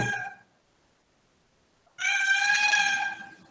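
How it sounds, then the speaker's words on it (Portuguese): A stray cat at a house lets out two loud, drawn-out meows close by, separated by a long silent pause, with no speech. "E um gato apareceu aqui na minha casa e eu vou ter que lidar com isso"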